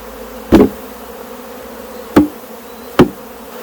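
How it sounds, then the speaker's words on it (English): Honey bees hum continuously inside a hive box as frames and the box are handled, with three sharp thuds from shaking that briefly stand out above the steady buzz. "Got a lot of bees in this box, so now I got to kind of shake those down"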